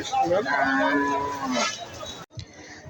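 A cow gives one long, loud moo close by at a cattle market, followed by a brief pause and some faint shuffling.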